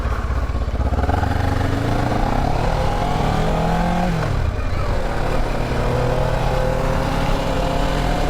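An old restored Kawasaki motorcycle on a test ride, its engine droning loud and close in second gear, the pitch rising and falling steadily throughout with wind noise and no speech.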